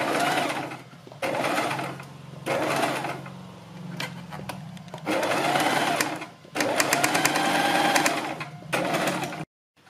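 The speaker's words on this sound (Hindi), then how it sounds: "इन्हीं निशानों के ऊपर हमें दोनों पट्टियों पर एक एक सिलाई लगानी" A sewing machine stitches strips on a kurti neck in several separate runs, each a close, rapid mechanical whirring clatter, with short pauses between bursts.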